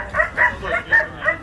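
A sled-pulling dog at a winter snow festival weight-pull event in Frankenmuth, Michigan, barks in an excited rhythmic series of about five short, loud yips, close and clear.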